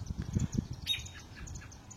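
Several birds call noisily from trees, with a burst of sharp chirps and squawks in the middle over a low rumble of wind or handling noise.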